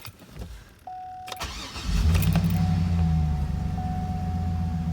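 A GMC 6.2L truck engine, just repaired with a new oil pressure sending unit, cranks briefly after a dash chime, then catches and settles into a steady, close idle with a faint electronic tone persisting.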